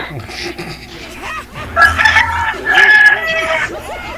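A rooster crows twice in succession, loud and near, with faint background voices and farm noise around it.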